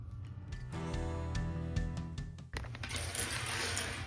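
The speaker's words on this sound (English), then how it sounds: "now I can go ahead and sew that up right there." A sewing machine stitches up a knot tank top, a steady mechanical whir running through the clip, briefly pausing partway before resuming.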